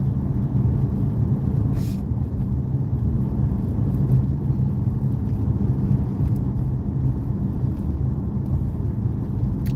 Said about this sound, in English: It's just a bunch of trucks with lights and stuff